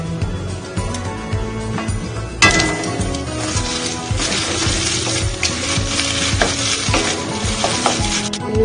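Two eggs scrambled in a little hot oil for egg bhujia, a close steady sizzle with a sharp spatula clink and scraping stir strokes against the pan throughout.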